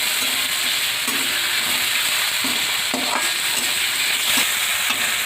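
Potato and carrot pieces are stirred in a sizzling frying pan for cabbage rolls, an even hiss of frying broken by regular spatula scrapes and taps against the pan, with no voices.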